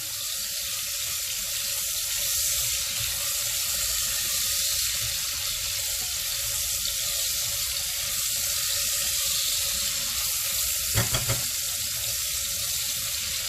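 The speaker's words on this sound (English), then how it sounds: "Now I'll just cook the onions just for literally half a minute." Onions fry in hot oil in a pan, giving a steady, loud, broadband sizzle that continues unbroken, with one brief clatter near the end and no voices.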